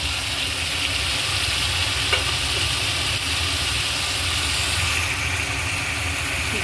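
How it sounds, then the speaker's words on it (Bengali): Fried potatoes get stirred into a banana flower curry in a pan, a steady close sizzle and soft stirring hiss continuing throughout with a faint knock, no voices. "দিয়ে ভালো করে মিলিয়ে নেব"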